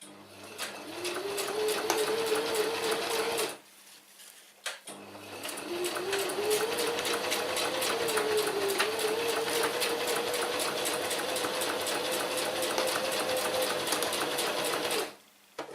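Sewing machine stitching Cordura fabric, a fast steady mechanical whirr running in two long bursts with a short pause between, fairly faint and close.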